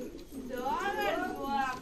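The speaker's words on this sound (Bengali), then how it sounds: "এটা মেল পায়রা আছে" A male racing pigeon in a loft coos softly, a couple of low rolling warbles close by, with someone talking over them.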